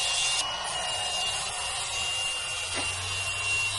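Grinding in a workshop produces a steady, harsh abrasive hiss that runs continuously at moderate distance.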